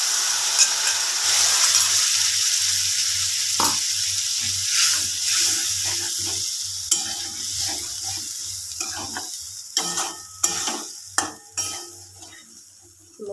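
Spice masala for a pointed gourd and paneer dish sizzles steadily in a pan just after a splash of water. Repeated spoon scrapes and metallic clinks break through, with no one speaking.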